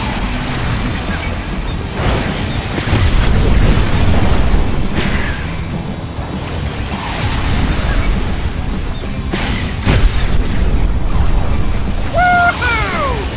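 Booming explosions and crashing impacts from a Cars 2 racing game, loud and repeated across the stretch with mechanical clatter between blasts and brief high whining tones near the end.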